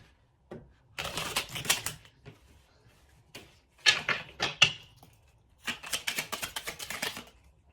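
Oracle cards shuffled in three distinct bursts of crisp, rapid riffling, close and clear, separated by short quiet gaps with a few lighter flicks as cards are handled, no speech.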